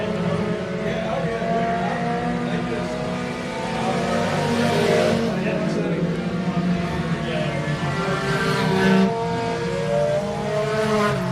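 Super late model race cars qualifying at Pike County Speedway, engines roaring and shifting pitch as they lap the track, loud and steady with a track announcer talking over the engine noise.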